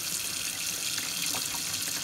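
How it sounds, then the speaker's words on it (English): Hot water runs from a sink tap in a steady close splashing stream, constant and unbroken, with no talk. "Let me just use some hot water from the sink."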